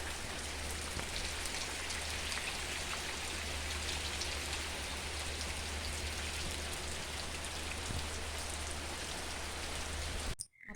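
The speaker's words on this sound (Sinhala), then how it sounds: "දැන් ආයෙමත් වැස්ස පටන් ගත්තා" Rain falls steadily as a faint, even hiss of drops on surfaces, continuing unbroken until it cuts off abruptly near the end; nobody talks.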